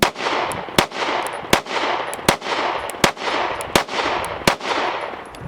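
A Springfield Armory Hellcat Pro pistol fires at a range in a rapid run of about nine sharp, loud shots with short, fairly even gaps, each crack followed by a brief ringing tail.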